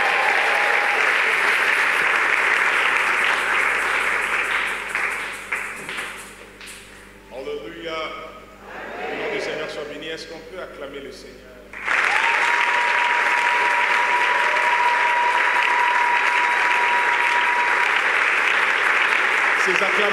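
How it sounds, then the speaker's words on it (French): A large congregation at an Easter celebration service applauds and cheers for the Lord as a pastor comes forward, a dense roar of clapping that dips into murmuring voices midway before surging back loud and sustained. "Alors qu'il avance, nous acclamons le Seigneur."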